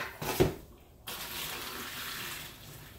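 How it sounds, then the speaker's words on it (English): Water splashes briefly, then a steady stream of hot, salty cooking water from collard greens rushes into a sink, a continuous hissing flow that lasts to the end. "I'm just going to pour all of this out."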